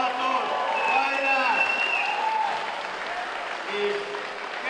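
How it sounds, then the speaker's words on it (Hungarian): Spectators applauding at a pool dragon boat championship, steady clapping from a crowd that swells and then eases, while a voice talks over it in the foreground. "Egy nagy tapsal bátorítsuk az első két csapaton."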